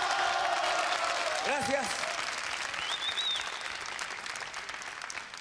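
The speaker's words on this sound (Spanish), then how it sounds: "más fuerte el aplauso para el Centella" Crowd applause for the comedian Centella on a 1996 variety show, a steady roar of clapping that fades slightly toward the end while someone briefly speaks over it.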